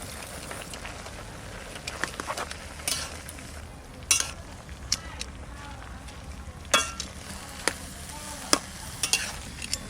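Leafy greens go into a pot where potatoes and vegetable stalks are simmering, giving a steady bubbling sizzle with scattered stirring scrapes and a few sharp clinks of utensils against the pot.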